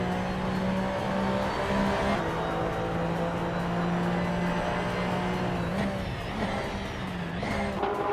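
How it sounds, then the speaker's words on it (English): A 2017 Porsche 911 GT3 Cup race car roars steadily in a racing video game, its engine note holding a sustained drone with a few shifts and dips, with other cars blending in. "Shotskis is driving a 2017 Porsche 911 GT3 Cup."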